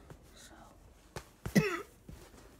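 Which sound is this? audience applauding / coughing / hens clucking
coughing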